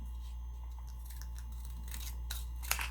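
Scissors trimming paper pieces for a handmade Halloween decoration, a few soft, crisp snips close by over a steady low hum, with the sharpest cut near the end.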